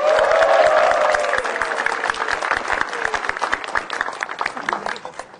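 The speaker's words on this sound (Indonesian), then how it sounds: "Beri tepuk tangan yang meriah buat Panca Atis." Audience applause at an Indonesian stand-up comedy show, a loud, dense burst of clapping from a crowd that holds strong at first and then gradually thins out and fades.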